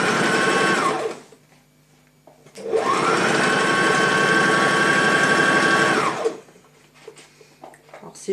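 A sewing machine stitches a fabric waistband corner in two close, loud runs: a brief burst, then a pause while the needle stays down and the work turns, then a steady run of about three and a half seconds.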